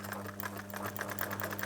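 A sewing machine stitches a steek through a knitted cardigan sleeve, with a fast, even mechanical chatter and a steady motor hum running close and continuous throughout.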